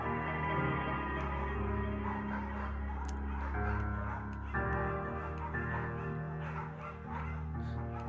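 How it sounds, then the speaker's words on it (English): A tiny scruffy dog in the Firewatch video game gives a few soft yips and barks over a quiet musical background. "Tiny, scruffy dog."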